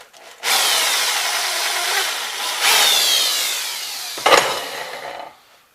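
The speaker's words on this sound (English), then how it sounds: "I'm going to drill them a little bigger." A power drill bores holes to make a coolant reservoir, delivering a loud whirring grind in two sustained bursts followed by a brief sharp spurt before stopping.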